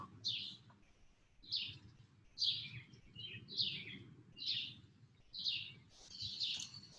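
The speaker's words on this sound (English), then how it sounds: "You hear the birds?" A bird chirps repeatedly outdoors, short bright calls at a regular pace about once a second, over a low background rumble.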